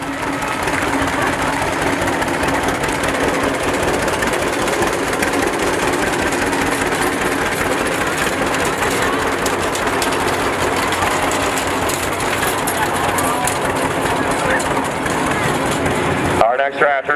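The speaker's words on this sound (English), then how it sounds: "Our next tractor is a 1953 Farmall Super C" An antique 1953 Farmall Super C tractor engine chugs steadily through a county fair parade, a continuous mechanical drone under a public-address announcer talking throughout, cutting off abruptly near the end.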